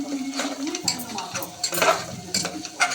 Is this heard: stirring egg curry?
yes